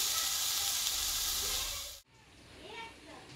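Drumstick greens and eggplant frying in a pan, a steady loud sizzle and hiss that cuts off abruptly midway, then resumes more softly with faint background sounds.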